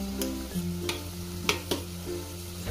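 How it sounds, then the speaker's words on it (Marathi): Potato and prawns go into hot oil and fry with a close, steady sizzle, broken by a few sharp spatula scrapes and clicks, with no talking. "तर मी ह्याच्यामध्ये बटाटा टाकते आणि कोळंबी"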